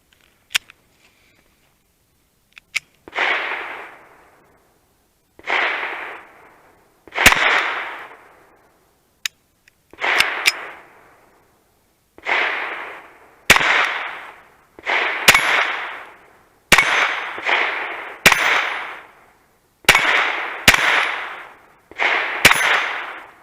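Ten sharp gunshots from a revolver or semi-automatic pistol, spaced a few seconds apart at first and then quicker, each a loud crack with a short ringing tail, no voices.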